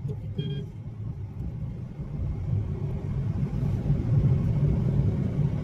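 A rented car driving along a road near Bhubaneswar, heard from inside as a steady low engine and road rumble that builds slightly louder toward the end, with no talking.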